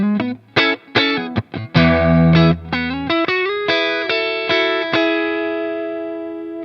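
Electric guitar through a Beetronics Wannabee overdrive pedal set to its Bluesbreaker side, playing a lively riff of punchy, driven notes and short chords with brief gaps, then letting a final chord ring out and slowly fade.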